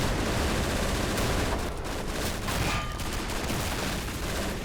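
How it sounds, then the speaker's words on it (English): Mortars and gunfire in the World War II strategy game Men of War: Assault Squad 2, a dense, continuous barrage of booming blasts and crackling shots, loud and unbroken from start to finish. "mortars are firing off everywhere"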